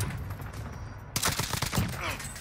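Gunfire in the Call of Duty: Warzone video game, a sudden burst of rapid shots after a quieter stretch, with a voice talking over it.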